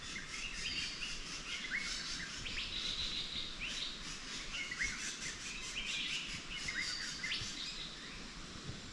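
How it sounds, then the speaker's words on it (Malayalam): Birds chirp and call repeatedly in a forest after rain, several short tweets and trills overlapping at moderate distance over a steady insect-like background hum, with no talk. "എന്തൊക്കെയോ കിളികളൊക്കെ ഇങ്ങനെ നടന്ന് ശബ്ദം ഉണ്ടാക്കുന്നുണ്ട്."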